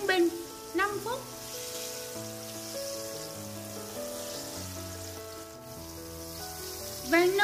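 Pork belly frying in oil in a pan over medium heat, a soft continuous sizzle and crackle with bright music playing over it.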